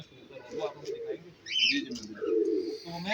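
Racing pigeons on a rooftop loft, with low cooing and a few higher chirps close by, mixed with nearby voices talking.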